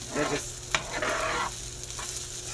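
Food sizzles and fries in a stove-to-oven pan while it is stirred, a close, continuous crackle broken by a few scraping stirs and a soft clack of the utensil.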